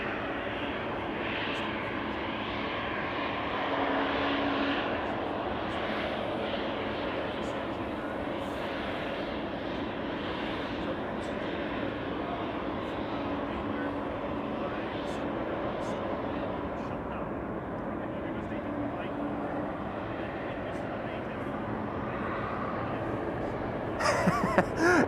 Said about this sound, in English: Over here we have our next departure, an Embraer 190 to Turin.